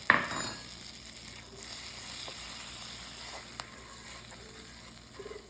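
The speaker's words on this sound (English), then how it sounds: "now we're gonna add half a stick of butter to our sausage grease" Flour cooking in butter and sausage grease in a cast iron pan gives a quiet, steady sizzle, with a sharper burst at the start and a few faint clinks of a utensil.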